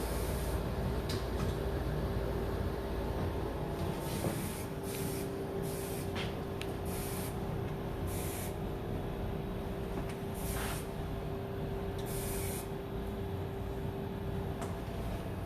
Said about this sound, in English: now I'm going to go in with some shine spray